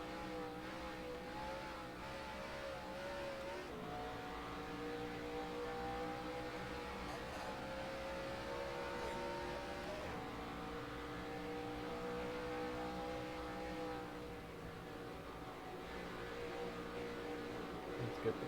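A race car engine in the NASCAR Racing 2003 video game running a practice lap at Chicago, a sustained mid-level engine drone whose pitch rises and shifts with gear changes, continuous and steady.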